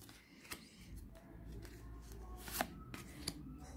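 Tarot cards shuffled by hand before a pyramid draw, a quiet, close riffling and sliding of cards with soft taps and flicks, faint overall and without talk.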